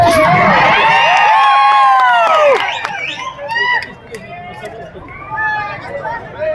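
A loud crowd at a Maratha reservation rally in Vairag shouts and cheers together at first, then fades into scattered calls and chatter in the background.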